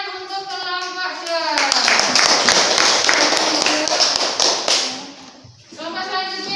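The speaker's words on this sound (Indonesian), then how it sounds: "beri tepuk tangan untuk kelompok D" Classroom of students clapping for a presenting group during a teaching practice session, dense sustained applause lasting several seconds, with a voice speaking before and after it.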